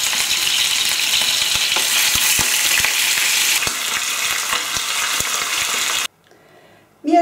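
Ham sears in a hot pan, turned to brown on every side, giving a loud, continuous crackling sizzle with sharp pops that stops abruptly near the end.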